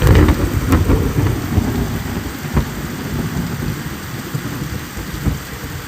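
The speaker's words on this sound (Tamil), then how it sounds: "ரொம்ப அதிக இடி மில்லோட மழை பெய்யுது சார்" Heavy rain pours steadily with thunder near Tirukkoilur in Tamil Nadu: a dense, loud roar of rainfall with low rumbles and a few sharp cracks, continuous throughout, no voices.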